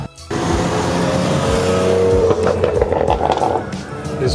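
A Mercedes-AMG CLS 63 drives on a street with a loud, close engine roar that rises and revs hard, then wavers as it pulls away, with no talk over it.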